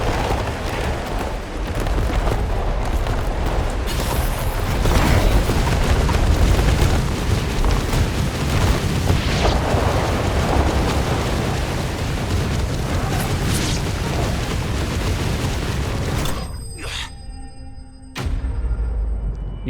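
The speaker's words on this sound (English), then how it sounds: "Fire tornado." A fire tornado attack in Final Fantasy XVI erupts in a long, loud roaring blast of fiery explosions that sustains for many seconds before cutting off abruptly, with no talk over it.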